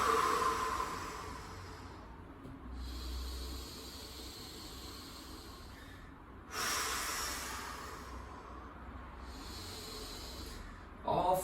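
Slow, deep breaths during a yoga stretch, each long airy inhale and exhale standing out clearly near the mic, repeating in an even rhythm with no talking.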